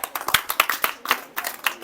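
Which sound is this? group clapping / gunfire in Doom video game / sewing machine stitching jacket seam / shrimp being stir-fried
group clapping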